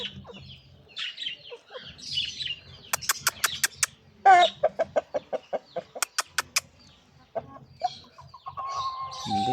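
A decorative breed rooster and its hens cluck in loud, sharp bursts, including one fast run of regular calls. Nearby, softer clucks and low rustling fill the pauses, with no voice.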